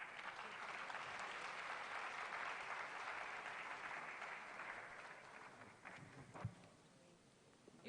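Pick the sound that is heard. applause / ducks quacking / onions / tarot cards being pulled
applause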